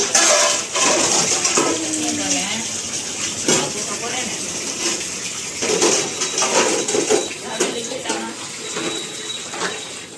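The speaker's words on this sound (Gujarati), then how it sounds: "बर्तन धो रही है अभी" A younger sister washing dishes in a home kitchen around 1 pm, with running water from a tap and clinking utensils and pans, steady and fairly close, with voices talking in the background.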